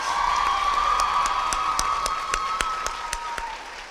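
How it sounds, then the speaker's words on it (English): An audience claps and cheers at a young dancers' ballet competition awards, with sustained applause, sharp individual claps and a high held cheer or whistle across the middle, easing slightly toward the end. "One more round of applause for our Category 1 dancers."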